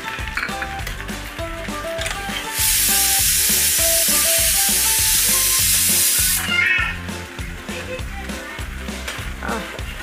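Okra frying in a pan over a low-to-medium gas flame, a steady loud sizzle that swells for a few seconds over a background of rhythmic music.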